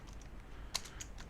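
A few soft keystrokes click on a computer keyboard during coding, one slightly sharper tap standing out among faint, quick presses.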